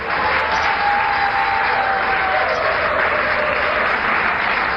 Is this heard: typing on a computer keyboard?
no